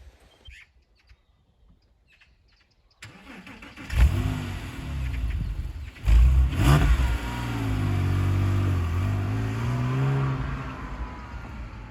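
A Porsche 997 starts up after a quiet moment, then revs and pulls away, its engine note rising and holding steady up close with a few sharp throttle blips.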